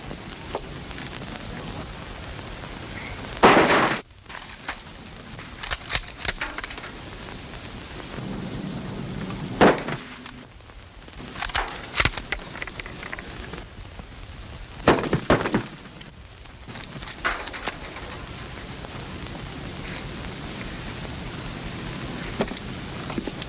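Gunfire at shooting-range targets in a 1942 WWII army comedy film: a few loud, booming shots ring out several seconds apart over a hissy old soundtrack, each followed by a brief lull.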